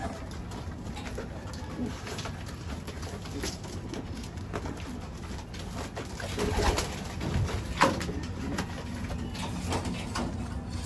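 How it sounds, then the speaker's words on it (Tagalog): Newly bought pigeons fresh from their box give soft, low cooing calls, fairly faint and close, repeating over a quiet background with occasional small bumps and rustles. "Ayun, yung mga bago nating ibon."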